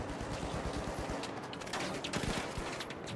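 Rapid bursts of gunfire in The Finals, a first-person shooter, aimed at deployed turrets during a match; dense, continuous volleys of shots fill the whole stretch, loud and close with no pauses.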